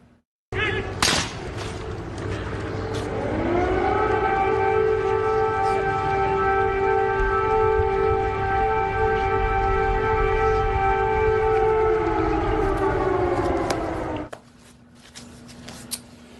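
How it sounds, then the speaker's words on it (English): Air raid sirens wail over Kyiv, a long sustained rising tone that swells, holds steady for many seconds and then fades, loud and continuous beneath a distant murmur of background noise. "Note the air raid sirens in the background."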